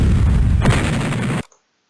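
Cannon bombardment in the Civil War Generals II strategy game: a loud, dense roll of booming fire that keeps going, then cuts off suddenly into silence.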